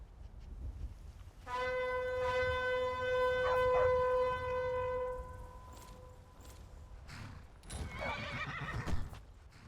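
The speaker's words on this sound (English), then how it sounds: "Let's call our horse." A summoned horse in the video game Skyrim gives one long, loud whinny and then hooves gallop in, fading toward a few closing thumps.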